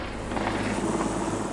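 A helicopter flying over an urban combat zone; its rotor drone fills the clip with a steady, loud, throbbing roar and no pause.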